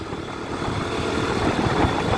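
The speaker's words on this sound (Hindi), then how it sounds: "मैंने थोड़ा एक्सीलेटर बढ़ाया" A KTM motorcycle engine runs close by as the throttle is opened a little, a rough, steady low putter thickening and growing slightly louder toward the end, with no voices.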